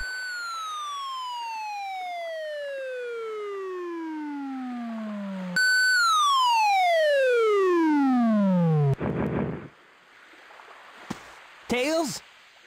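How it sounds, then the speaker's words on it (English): Generic falling sound effect from the Sonic Adventure DX video game: a long descending whistle-like tone, followed by a second faster, louder drop, then a brief noisy thud and short chirps. "generic falling sound effect"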